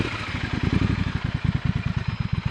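A Triumph Scrambler 1200 XC's parallel-twin engine with a 270-degree crank runs close by, producing a loud, uneven, lumpy pulsing beat with clattery mechanical texture and no talk over it.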